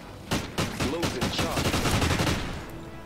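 Call of Duty gunfire rings out as a rapid series of sharp, punchy shots, some tightly bunched like automatic bursts, loud and close for about two seconds before tapering off.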